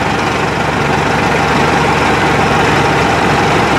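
A Mahindra 8560 tractor engine idles steadily and loudly up close, a dense continuous diesel drone holding an even pitch throughout with no speech over it.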